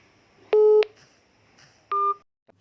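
Keypad tones from a mobile phone dialing 1299, a Jio number: two short, loud beeps close together, then a pause and a third beep, with quiet room hiss in between and no speech.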